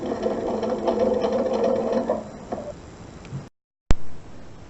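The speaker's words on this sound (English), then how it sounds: "start sewing. Because I'm going to go over this again, I don't really have to lock the stitches" Sewing machine stitching quilt binding runs steadily for about three seconds, then stops, followed by a sharp click and a short fading tail.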